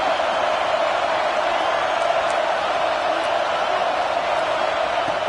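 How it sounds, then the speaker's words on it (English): A home crowd at a football game sends up a steady, distant roar of cheering and whoops that runs unbroken throughout, with speech mixed in over it. "this home crowd is fired up and ready to make a difference today"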